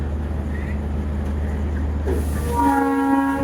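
The Punorvoba Commuter local train at Rajshahi railway station rumbles with a steady low drone, then its horn sounds loudly in a sustained blast near the end, with a faint voice briefly beneath.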